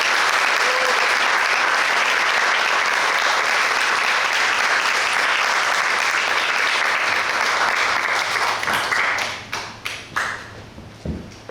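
A congregation at a church founding service applauds loudly and densely for about nine seconds, then the clapping thins into a few scattered claps and fades out.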